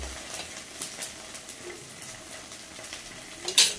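Ginger and garlic paste hits a hot pan with a soft, continuous sizzle, broken by occasional light scrapes and stirring taps, with a sharper clatter near the end.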